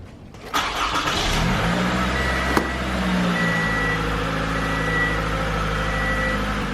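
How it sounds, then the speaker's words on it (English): A 2012-2017 Toyota Camry engine cranks and catches, then settles into a steady idle with a faint whine, heard up close and alone. "Now let's go and start the car and check it and clear the code."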